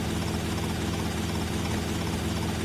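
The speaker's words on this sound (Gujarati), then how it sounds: "ક્યાં જતો રહ્યું હેલિકોપ્ટર? આ રહ્યું સામે." Helicopter in the video game GTA Vice City, a steady, loud rotor and engine drone that continues without a break, with no voices.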